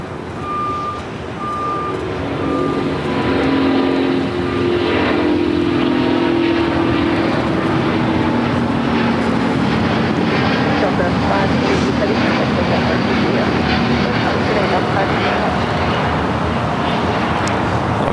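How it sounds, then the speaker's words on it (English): A Delta Airbus A350 bound for Atlanta takes off from the south side of LAX, a loud, sustained jet roar that swells and holds steady across the whole stretch, with voices heard faintly beneath it. "The flight heading to Atlanta, Delta A350, now taking off here on the south side."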